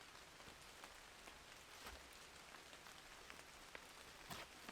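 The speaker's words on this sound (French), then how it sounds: "Et on entend le bruit de la pluie." Rain falling in an autumn forest, a soft, even patter of drops on leaves and ground throughout, quiet and steady with scattered sharper drips.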